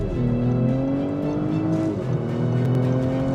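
A tuned BMW 340i with B58 engine, upgraded intake and exhaust, accelerates steadily, its loud droning pitch climbing and then dipping briefly as it shifts before climbing again, heard from close by.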